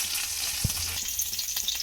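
Ginger, green chilli and whole spices fry in a hot pan, giving a steady close sizzle with a brief stirring knock near the start, no voices.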